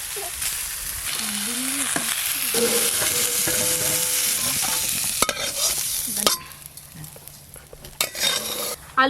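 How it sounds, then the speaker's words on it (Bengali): Potatoes and jackfruit frying in a pan, heard as a steady close sizzle with scraping stirs of a spatula and occasional clinks against the metal pan, fading toward the end with a few sharp knocks. "আলু আর এঁচড় এই যে এরকম করে ভেজে নিয়েছি"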